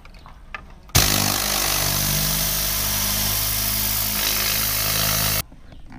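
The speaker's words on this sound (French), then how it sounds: "je ferme ma vanne et je repasse qu'avec de l'air" Compressed air blasting through a motorcycle part to clean it, a loud, steady roaring hiss that starts abruptly, holds for about four and a half seconds close up, then cuts off.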